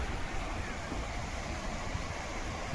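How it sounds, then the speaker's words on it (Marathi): A constant broad rush of the Mula river's first floodwater fills the scene, steady and fairly loud, with a low rumble like wind buffeting the microphone. "हे बघा पाण्याची आवक,"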